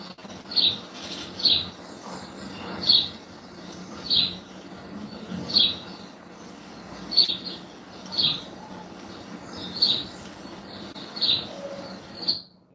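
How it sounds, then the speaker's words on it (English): Recorded bird chirps play for a cat, sounding as a regular series of about ten short, sharp tweets spaced roughly a second apart over a quiet room background. "He hears bird sounds, but he sees a mouse."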